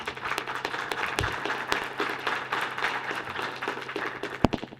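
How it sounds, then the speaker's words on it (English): Applause from the audience at a town council hearing: a sustained patter of many hands clapping across the whole stretch, with a few sharper louder claps standing out. "please hold your applause"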